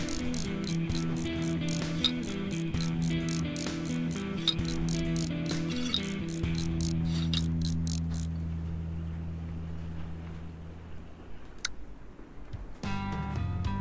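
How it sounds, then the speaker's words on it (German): Screws being tightened in Train Mechanic Simulator 2017: fast, evenly spaced ratcheting clicks over a steady mechanical hum, stopping about two-thirds through, then a brief burst of clicking near the end. "da muss ich auch schon schrauben"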